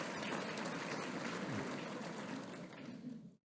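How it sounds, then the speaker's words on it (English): An audience at a university annual meeting applauding, a dense, steady wash of many hands clapping that holds evenly for about three seconds and then cuts off abruptly. "A short applause, please."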